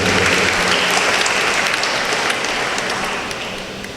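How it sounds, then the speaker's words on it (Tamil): A church congregation claps for the priests during a Tamil festival Mass, producing a dense, loud, unbroken wave of applause that fades slightly toward the end. "நாம் மனமாற கைத்தட்டி நம்முடைய விழா வாழ்த்துக்களையும் நன்றிகளையும் தெரிவித்துக் கொள்வோம்"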